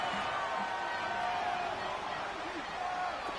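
A stadium crowd roars steadily in an American football video game on PS4, building ahead of a big third down, a broad sustained wash under commentators talking.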